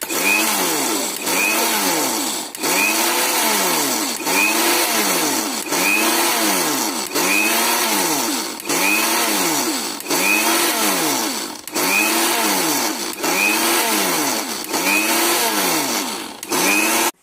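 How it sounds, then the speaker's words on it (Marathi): A mixer grinder whirs loudly in repeated short bursts, switching on and off in a steady rhythm of roughly one-second pulses, with no voices. "आता आपण मिक्सर बंद चालू बंद चालू अशा कंडिशन मध्ये"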